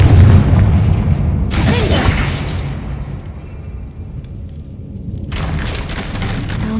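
A Confringo spell explosion in the Hogwarts Legacy video game: a deep booming blast with a bright crackling burst, then rumbling debris that fades and swells again.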